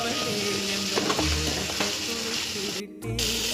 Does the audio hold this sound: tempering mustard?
yes